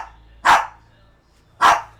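A single dog, a male, lets out two sharp, loud barks about a second apart, close by, with only faint room hum in between.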